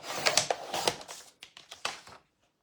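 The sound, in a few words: paper trimmer cutting card in half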